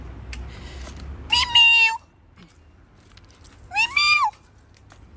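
Two clear, close cat meows outdoors, each drawn out and well separated by a quiet pause, with faint low background noise.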